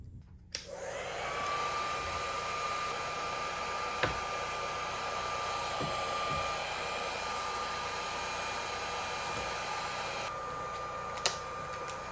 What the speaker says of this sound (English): I'm gonna grab a razor, a heat gun, and hopefully this isn't too difficult to remove